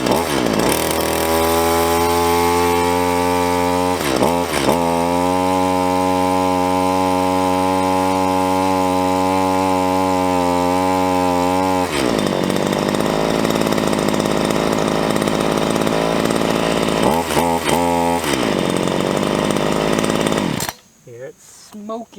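A chainsaw runs loud and close, its engine holding a steady high whine for long stretches with a few brief dips in speed, then cutting off abruptly at the end.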